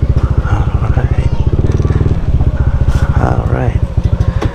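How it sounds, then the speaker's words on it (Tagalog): A motorcycle idling close by with a steady, throbbing engine rhythm as it is parked near Bagbag Resort in Sual, Pangasinan, with someone talking over it throughout. "Ipapark lang natin na maayos yung motor natin guys."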